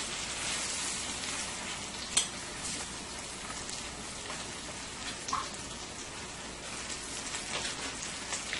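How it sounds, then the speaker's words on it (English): Beef pot roast browning in a pot gives a steady, soft sizzle and crackle with a few brief louder pops, continuous and close, with no talking. "I'm going to let it brown on each side."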